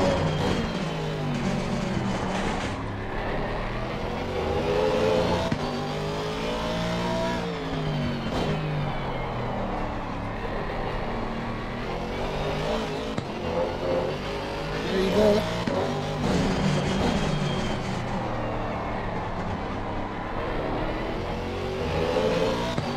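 Race cars in a racing video game at Circuit of the Americas, including a BMW, their engines droning and rising through the gears for a long stretch, steady and fairly loud throughout.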